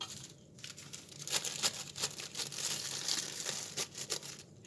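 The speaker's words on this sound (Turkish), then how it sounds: "şöyle bir poşete geçireceğim" A plastic bag crinkles and rustles as a potted African violet is slipped inside, with irregular close crackles and crumples and no talk.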